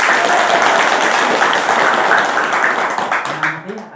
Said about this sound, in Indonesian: Itu tepuk tangan bersama.